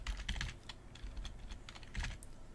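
Fast typing on a computer keyboard, close clicks in quick uneven bursts with brief pauses, no voices.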